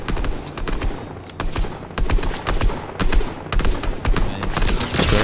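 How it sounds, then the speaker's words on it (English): Rapid automatic gunfire bursts from a Fortnite match, loud and close, firing in repeated volleys with brief gaps across the whole stretch. "Shoot the rock, shoot the rock. Yeah, shoot the rock."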